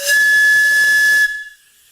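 Air forced into a tube produces a steady, high-pitched resonant whistle with a hissy edge. It holds for about a second, then cuts off abruptly, leaving a faint trailing ring.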